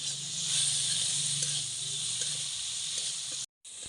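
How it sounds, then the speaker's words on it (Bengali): Prawns fry in a pan with salt and turmeric, giving a loud, steady, dense hiss and sizzle that runs unbroken until it cuts out abruptly near the end. "এবার ভালো করে ভেজে নেবো এটা।"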